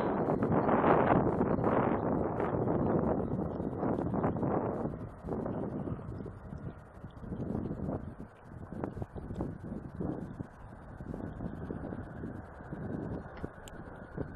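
Strong gusty wind buffets the microphone at an RC flying field during a Durafly Tundra flight, with loud rumbling roars at first that ease into steadier uneven buffeting.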